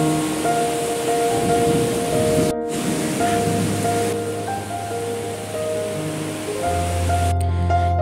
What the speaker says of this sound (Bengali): কিভাবে বৃষ্টিটা হচ্ছে দেখুন।